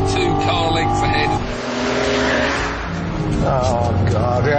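An Audi TT and a BMW Z4 accelerating hard off the line in a race, loud engines roaring and revving with shifting pitch, while voices talk over the noise.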